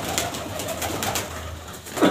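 Breeder pigeons coo steadily inside a cage, a soft repeated murmur of several birds close by with no talk over it.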